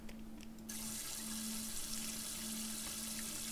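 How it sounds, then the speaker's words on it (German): Kitchen sink in the video game Aquarist filling from the tap, a steady loud hiss of running water that switches on sharply near the start and continues evenly over a faint low hum. "Füll die Küchenspüle mit Wasser."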